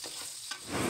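Sliced onions fry with salt and turmeric in a pan for fish curry, a close steady sizzle with stirring that rises louder toward the end, no talking.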